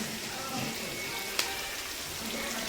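Ground chili, poppy seed and rice powder hit hot tempering oil for a village-style Karnataka country chicken curry, giving a steady close hiss and sizzle throughout with one brief sharp spatter midway.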